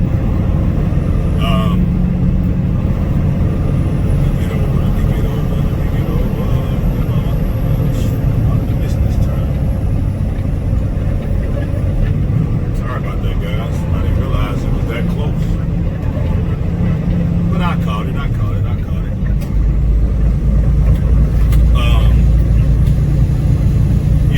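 A pickup truck with about 300,000 miles on it rolls downhill and gathers speed, giving a loud, steady road and engine roar that runs throughout, with wind noise and occasional rattles; no voices.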